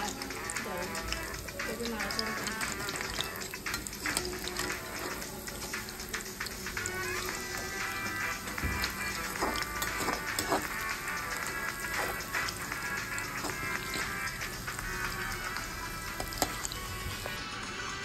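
Fritters (bora) frying in hot oil in a Bengali pakoda-style niramish recipe, being stirred in the pan; a continuous busy sizzle with clinks and scrapes of stirring, and background voices faintly present.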